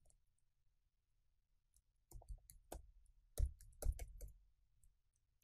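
A passphrase is typed on a computer keyboard in a quiet room, with scattered soft key clicks at first, then bursts of faint, close taps.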